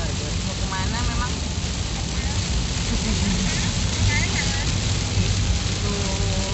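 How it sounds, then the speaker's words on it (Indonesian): Steady, heavy rain hisses throughout at a campervan camping gathering in West Java, Indonesia, with a low rumble beneath and occasional faint voices in the background. "Itu lagi hujan, guys."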